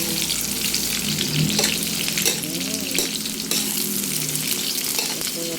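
Chayote, carrots and broccoli fry in a pan, a strong continuous sizzle broken by scraping stirs and utensil knocks against the pan, with no voices.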